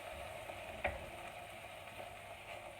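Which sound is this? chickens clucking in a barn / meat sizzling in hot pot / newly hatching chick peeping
meat sizzling in hot pot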